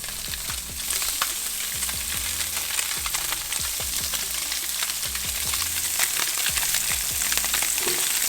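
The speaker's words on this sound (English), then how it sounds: "Hot oil, and then going down with the trout." Sea trout fillet searing in hot oil over high heat, a loud, dense, continuous sizzle and spatter right up close, with faint clinks in the background and nobody speaking.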